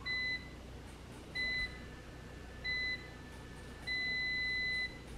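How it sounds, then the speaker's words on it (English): Four electronic beeps from a metal timer lock box, each a short steady tone at a quiet level, the last held longer, separated by roughly a second of near silence. "During the beeping, you can press any button to cancel the lock"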